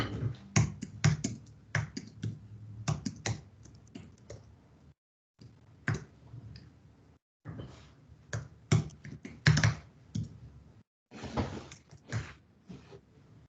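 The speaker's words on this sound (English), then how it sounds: "if you start typing my name, it might show up." Bursts of computer keyboard typing, quick irregular clicks in short runs separated by brief pauses, close and clear.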